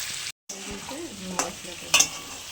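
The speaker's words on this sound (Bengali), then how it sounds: "ভালো করে ভেজে নেবো, তারপরে মশলাটা দিয়ে কষাবো।" Spices stirred and fried in a pan while cooking ghugni, a soft continuous sizzle with scraping stir strokes and a brief louder crackle near the end, close and without talk.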